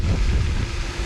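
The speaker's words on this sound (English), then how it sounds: "Oh yeah, getting windy. Getting windy." Wind gusting outdoors on an ultralight bass fishing outing, a close, low, rumbling buffet against the microphone that holds steady throughout with no talking.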